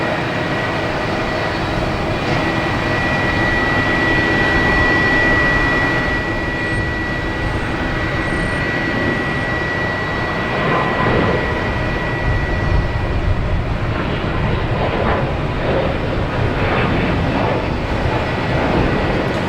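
A Japan Airlines oneworld-liveried jet airliner at Boston Logan Airport taxis past, giving a loud, sustained engine roar and whine that holds steady throughout.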